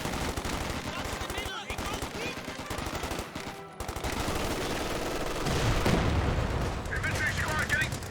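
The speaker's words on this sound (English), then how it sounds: "Medics firing with their M1911s." Rapid gunfire crackles through a Company of Heroes 2 battle as medics shoot M1911 pistols, dense overlapping shots and bursts with brief gaps, loud and close, with a voice commenting over the fighting.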